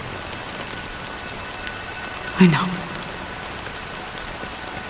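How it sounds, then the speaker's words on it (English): Steady rain falls in the video game Honkai: Star Rail as a constant, even hiss throughout, with one brief louder thump near the middle and a short spoken remark. "But it's still raining."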